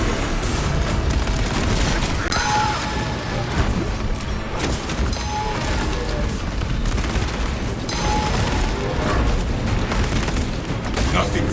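A meltdown explosion in the Space Marine 2 video game, heavy booming blasts over dense continuous gunfire and battle noise, loud and sustained throughout.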